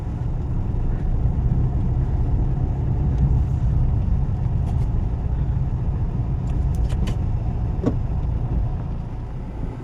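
A car rumbles steadily as it arrives at a village house, a continuous low engine and road drone with a few faint higher clicks and squeaks near the end.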